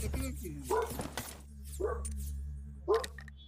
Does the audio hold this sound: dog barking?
yes